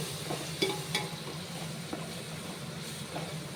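200 grams of ground garlic frying for Ambur prawn biryani, a low steady sizzle with a few faint clinks of stirring, close and fairly quiet with no voices.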